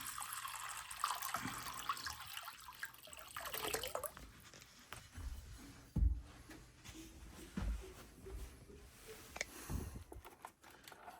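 Water runs and drips at a sink or faucet, a faint, irregular splashing and patter with occasional louder drops, fairly close and quiet throughout.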